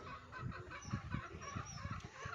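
Chickens cluck in a series of soft, irregular calls beside a papaya patch on a farm, fairly close and steady over faint outdoor background.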